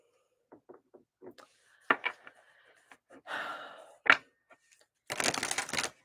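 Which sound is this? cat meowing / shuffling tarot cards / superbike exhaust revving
shuffling tarot cards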